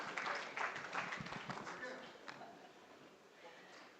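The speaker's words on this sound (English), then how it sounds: "Let's give them a round of applause as they come" Audience applause at a construction law conference rises briefly near a speaking voice, then fades into quieter background murmuring.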